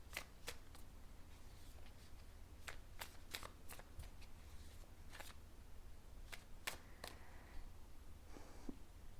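Tarot cards shuffled in a series of crisp, sharp riffling snaps and flicks spread unevenly over several seconds, close and fairly quiet over a low steady hum, with no voices.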